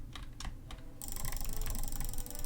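Typing on a Roccat Vulcan keyboard during Minecraft play: quick, close clicks and clacks of keys in irregular bursts, growing denser and busier partway through, with game sounds faintly behind.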